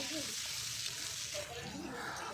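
Cut potatoes dropped into browning onions in a pan set off a continuous, fairly faint hiss of frying, with a voice talking quietly underneath.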